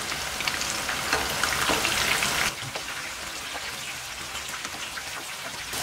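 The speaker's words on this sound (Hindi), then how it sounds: "इसे हम पलट कर सब जगह से अच्छी तरह से फ्राई कर लेंगे।" Chicken pieces frying in hot oil and being turned over, a dense crackling sizzle that is louder at first, then settles into a softer steady spatter.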